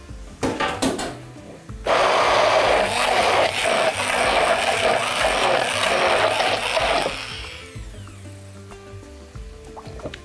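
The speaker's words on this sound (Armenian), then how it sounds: "Քերում ենք պարմեզան պանիր։" Parmesan cheese being grated for pasta with pesto: a steady, close rasping scrape that lasts about five seconds, preceded by a few light knocks and followed by quieter kitchen clatter.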